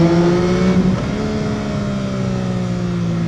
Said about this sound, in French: C'est un moteur avec une très belle sonorité également.